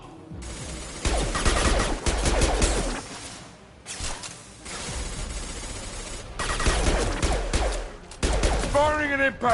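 Bursts of impact shot gunfire in Mass Effect 2, several loud clusters of rapid shots separated by short gaps, with game noise and a voice heard between volleys.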